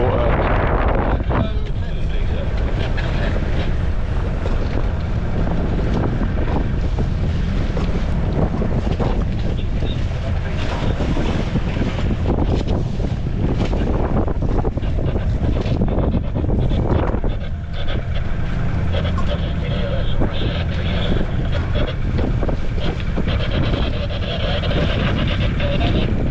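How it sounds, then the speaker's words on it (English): A boat heading to St Katharine Docks ploughs through choppy water in strong wind, with constant loud wind buffeting the microphone, hull slaps and water rushing close by. People speak faintly beneath the noise. "A bit more chop coming here."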